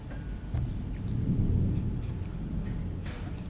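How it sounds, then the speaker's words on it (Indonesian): Low rolling thunder rumbling after the rain has stopped, a continuous deep grumble lasting several seconds, fairly distant and steady, with no speech over it. "udah reda masih geledek"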